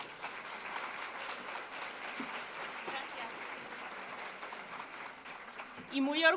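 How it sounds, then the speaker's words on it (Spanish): Warm applause from a conference audience at a business event welcomes a speaker onstage, a steady mid-level clapping that runs throughout and swells slightly near the end. "caluroso aplauso."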